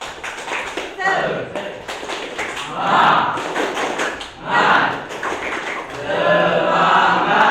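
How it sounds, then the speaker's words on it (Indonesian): A group claps hands together at a teacher's prompt, with steady, dense claps under voices that keep talking throughout. "kita tepuk tangan dulu ya"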